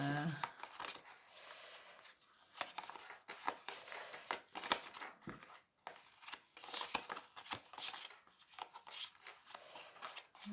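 Tarot cards being shuffled and laid down produce a steady run of crisp riffling and papery slaps, close and fairly quiet, without a pause.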